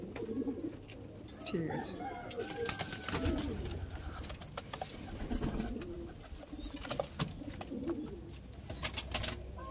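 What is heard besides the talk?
Giribaj pigeons cooing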